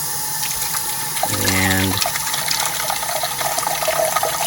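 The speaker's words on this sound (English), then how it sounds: "From here, let's go run this sock underwater" Tap water runs steadily at a kitchen sink over a white bowl as a Dyson vacuum filter sock is rinsed, with a brief burst of louder splashing partway through.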